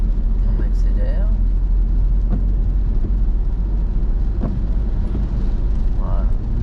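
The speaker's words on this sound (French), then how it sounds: "On accélère. Et on met la 4." A car accelerating and shifting into fourth gear, its engine a steady low drone heard from inside the cabin while an instructor talks over it.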